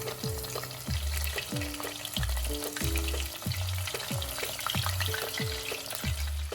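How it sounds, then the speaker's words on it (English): Chicken lollipops deep frying in hot oil over a medium-low flame, giving a loud, steady sizzle and crackle throughout, with no voices. "Fry the lollipop in the hot oil"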